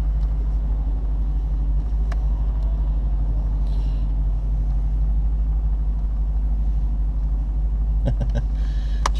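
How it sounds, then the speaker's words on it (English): An old Dodge Challenger warms up and drives, with a loud, steady low engine rumble throughout and a few faint clicks and knocks near the end. "The old Dodge Challenger warm up a little bit."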